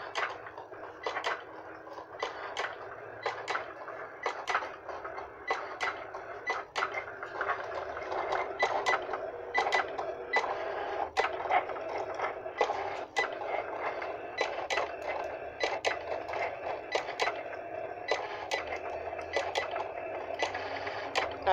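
Cricut cutting machine running with a quill pen and foil attachment, a steady faint motor hum beneath a long series of regular sharp ticks and clicks as the carriage moves, close and continuous, with no voices.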